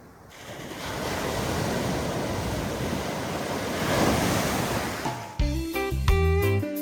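Sea waves wash steadily onto Praia do Pontal beach near Rio de Janeiro, a loud, continuous roar of surf mixed with wind noise on the microphone, giving way at the end to a burst of music.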